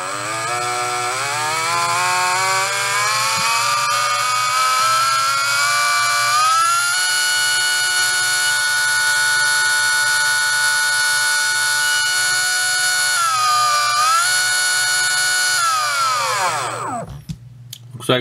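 Surpass Rocket V6 17.5T stock spec brushless RC motor spinning up with a loud tonal whine that climbs in pitch, holds steady with small dips, then winds down at the end.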